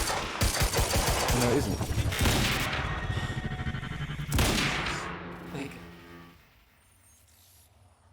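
Gunfire in the video game Quantum Break fires at the player in loud rapid bursts that fade after about six seconds, mixed with engine-like rumble, while a voice talks over it.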